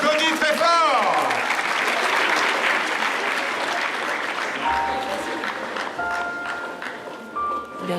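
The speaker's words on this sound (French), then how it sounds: "On les applaudit très fort." A crowd applauds newly graduated Paris fire brigade (BSPP) firefighters at a ceremony, with loud, sustained clapping throughout, a voice heard over it at the start, and brief tones near the end.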